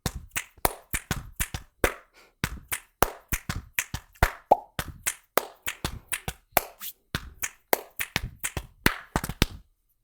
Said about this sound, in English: You got hit, snap, clap, snap, hit, clap.